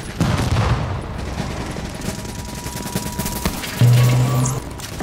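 Sustained automatic gunfire and bursts of shots in the video game Tom Clancy's The Division, loud and continuous across the whole stretch, with heavier booming volleys near the end.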